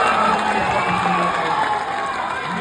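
At a political rally, a large crowd claps and cheers, loud and continuous, with shouted voices rising out of the roar before it eases slightly toward the end.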